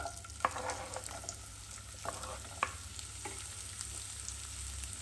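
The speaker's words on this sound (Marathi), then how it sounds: "हे तेल पण गरम झालेलं आहे तर सर्वात आधी मी कांदा टाकते" Chopped onion frying in hot oil for a capsicum dish, giving a faint, steady sizzle with a few sharp clicks of a spoon against the pan.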